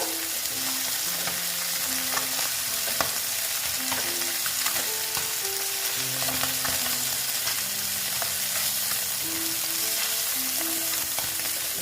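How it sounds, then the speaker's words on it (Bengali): Bata fish and vegetables, potato and eggplant, fry crisp in a pan with a steady, even sizzle and scattered small spits, while faint tonal notes drift underneath. "মোটামুটি আমার মাছ ভাজা হয়ে গেছে আমি দেখো বেশ কড়া করে ভাজলাম"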